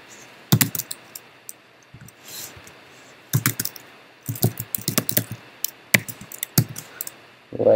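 Rapid bursts of keystrokes on a computer keyboard as code is typed, clattering in uneven clusters with short pauses between runs, close and clear with no talking.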